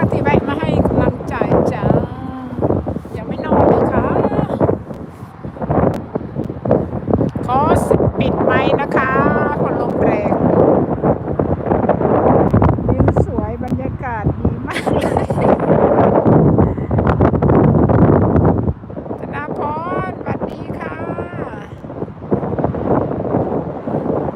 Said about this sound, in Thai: แต่ลมแรงจ้า